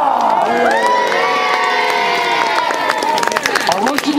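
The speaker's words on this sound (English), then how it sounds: "give him a nice big clap, Mr. Punch" A crowd of children and adults at an outdoor Punch and Judy show cheers and shouts loudly, with scattered claps and whoops rising over a continuous excited din while a voice carries through.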